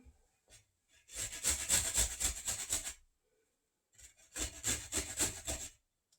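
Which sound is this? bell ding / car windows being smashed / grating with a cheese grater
grating with a cheese grater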